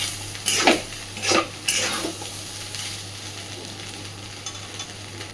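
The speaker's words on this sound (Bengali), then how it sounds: "আমি গ্যাসের ফ্লেমটাকে একদম মিডিয়াম টু লোতে রেখে একটু সময় নিয়ে সুন্দরভাবে সবটাকে ভেজে নিয়েছি" Fish roe frying in a wok over a medium-low flame, a soft continuous sizzle with a few scraping, clinking stirs of a metal spatula early on, close and without talking.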